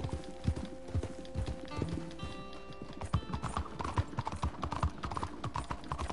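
Horse hooves clip-clopping in Red Dead Redemption 2, a steady run of close, fairly loud hoofbeats with a brief whinny, over game music and ambience, with no speech.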